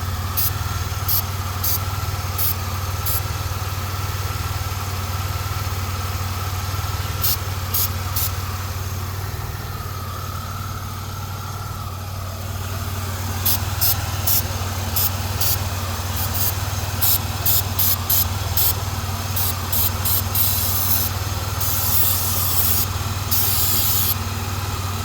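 A 2000 Firebird engine idles steadily while carb cleaner is sprayed around it in repeated short hissing bursts, some longer sprays toward the end, over the constant low engine hum.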